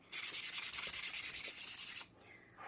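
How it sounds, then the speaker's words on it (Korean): Sandpaper rubs back and forth on a candle warmer in a fast, even rhythm of about twenty strokes, then stops with a faint scrape after. "이 부분에 대해서 사포를 해주도록 하겠습니다."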